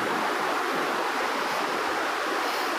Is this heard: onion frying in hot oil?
no